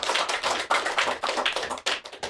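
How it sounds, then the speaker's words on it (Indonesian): Applause for SMK PGRI 1 Kedondong in a podcast studio, a dense burst of several people's quick hand claps, close and lively, sustained for a couple of seconds with no talking. "Tepuk tangan untuk SMK PGRI 1 Kedondong"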